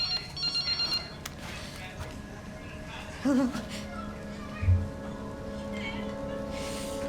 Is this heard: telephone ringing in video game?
yes